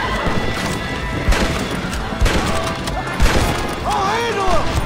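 In Red Dead Redemption, a horse whinnies and neighs amid heavy crashing thuds and hoof clatter, with several loud impacts spaced about a second apart and a rising whinny near the end.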